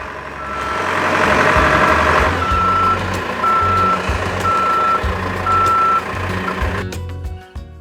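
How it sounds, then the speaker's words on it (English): Steady high reversing beeps from a boom forklift repeat at an even pace over a rumbling engine, close by and fairly loud. "The forklift should be making a beeping sound when in reverse."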